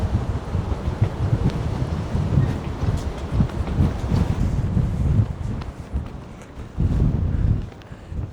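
Strong wind at the bow of a Carnival cruise ship roars and buffets the microphone in loud, continuous low gusts that surge and ease, with no talk.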